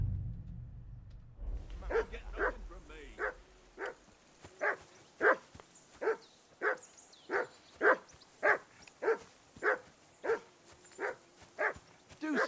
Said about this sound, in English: Do something with that mutt, Henry. It's doing my head in